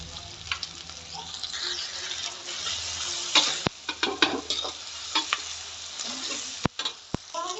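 Spices crackle and sizzle in hot oil for a bajra khichdi tempering, with bursts of popping and a few sharp metallic clicks from a spoon against the pan.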